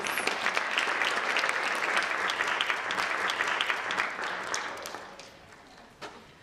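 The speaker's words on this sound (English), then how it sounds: "Let's give another round of applause to" Applause from the audience at a Distinguished Young Women scholarship competition, a full round of clapping that holds steady, then thins and tapers away, with one last clap near the end.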